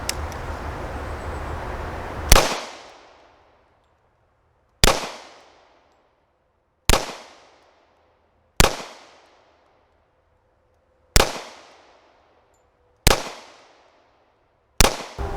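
Seven sharp pistol shots from a Ruger SR1911 Lightweight Commander fired at a target 7 yards away, each crack loud and followed by a short decaying echo, spaced irregularly about one to two seconds apart after some initial rustling.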